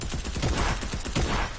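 Rapid bursts of video game gunfire during a close firefight, dense crackling volleys in quick succession, loud and close throughout.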